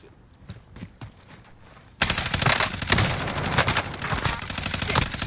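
Video game gunfire erupts after a quiet couple of seconds, becoming loud, rapid and sustained, with automatic bursts rattling continuously to the end.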